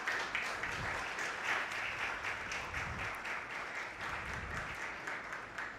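A theatre audience applauding performers brought on stage, sustained dense clapping at moderate level throughout, with no voices over it.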